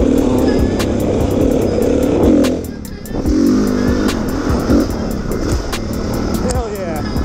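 Kick-started dirt bike engine running loud and close on a mountain trail, a rough steady idle with revving surges and a brief dip partway through, while people talk over it.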